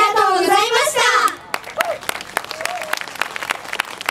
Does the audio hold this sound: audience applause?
yes